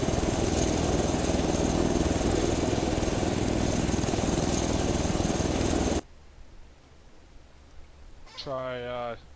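A helicopter engine runs in the video game ArmA as a loud, constant mechanical drone that cuts off abruptly partway through, leaving quieter background noise and a short tonal call near the end.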